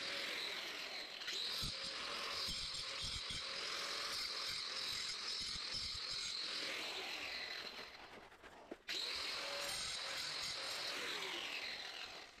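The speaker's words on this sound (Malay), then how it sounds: "kita kemaskan hujung-hujung garisan tadi dengan grinder" An angle grinder trims the ends of cut lines while a ventilation fan is being installed, producing a loud, continuous high whine that cuts out briefly once and then resumes.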